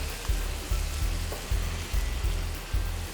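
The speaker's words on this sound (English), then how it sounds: "I'm going to go ahead and add in the tomato puree" Tomato puree hitting a hot sizzling pan of lightly browned spinach-and-corn lasagna filling, a steady soft frying hiss with regular low stirring thumps, close and fairly quiet, with no talk.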